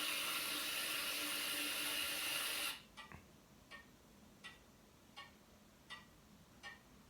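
A clock ticks faintly and evenly, about once every three-quarters of a second, after the last seconds of a steady running-water hiss stop. No other sounds are present.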